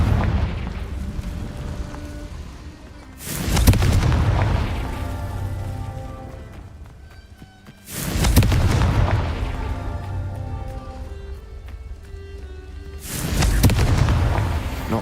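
Three heavy booming blasts from the Confringo fire spell in Hogwarts Legacy, each a loud sudden burst that rumbles and decays over several seconds, spaced roughly five seconds apart.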